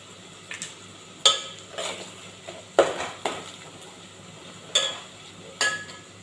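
Garlic and asafoetida frying in oil: a low background sizzle with several sharp clinks and scrapes of a spoon stirring in the pan at irregular intervals.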